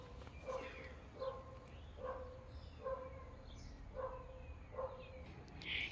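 Several small dogs bark in a steady series of short, evenly spaced yaps at moderate distance on a terrace, with faint birdsong and outdoor ambience behind.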